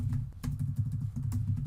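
A few sharp computer keyboard key presses, including the F2 key being tapped, click close and clear over a low steady background hum, with no talking.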